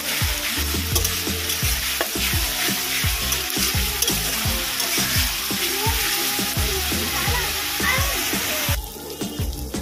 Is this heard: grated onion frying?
yes